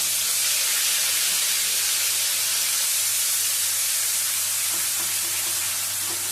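Onion paste hits hot salted oil for a pointed gourd dish, giving a loud, steady sizzling hiss that holds without a break throughout.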